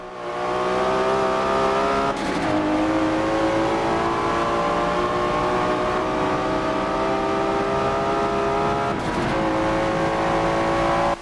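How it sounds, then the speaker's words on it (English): Two cars, a BMW and a Mustang, roar through a drag race in the Forza racing game, engines holding a loud steady drone with two sharp gear-shift dips and rising pitch, no talk. "That was a fun drag race between the BMW and the Mustang."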